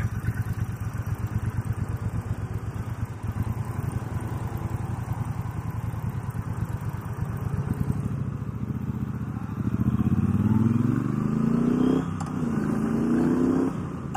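A 2019 Triumph Bonneville Bobber Black motorcycle engine rumbles in a low steady throb while riding. Toward the end it revs up through rising pitch sweeps, loud and close, with no talking.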